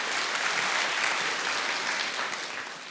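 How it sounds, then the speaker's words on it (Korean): Congregation at a Korean church service gives a deacon a round of applause, a steady, even burst of many hands clapping from a moderate distance, with no talk over it. "우리 윤상현 집사님 박수 한번 부탁드릴게요."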